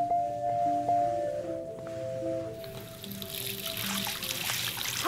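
Running water trickles in the game Life Is Strange, a soft steady stream under quiet background music tones, growing brighter and fuller partway through.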